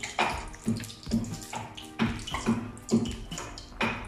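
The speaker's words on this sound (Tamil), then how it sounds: "அந்த தேங்காய் பால் இப்போ நாங்கள் என்ன செய்ய போகிறோம்னு சொன்னால் இந்த கறியோட கலந்து கொள்ள போகிறோம்." Coconut milk pouring and splashing into a Sri Lankan village-style chicken curry, in a series of short liquid splashes and stirs about every half second, close and fairly clear with no talk.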